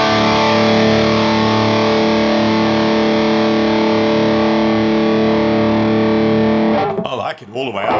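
Overdriven electric guitar through a Colombo Audio Electronics overdrive pedal running in MOD Audio, a sustained distorted chord ringing loud and steady for several seconds before cutting off, with a brief voice at the end.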